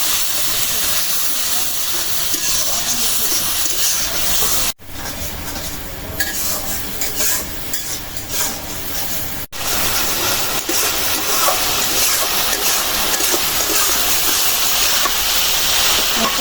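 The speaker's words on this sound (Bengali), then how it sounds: "মশলাটা ভালো করে কষাই নিলাম" Spice paste with chili and coriander powder is stir-fried in a pan for a bottle gourd curry, producing a loud, continuous hiss and sizzle broken by two brief cuts.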